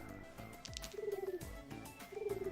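A dove coos in Luck Be a Landlord, two soft low warbling coos over faint game chimes and clicks.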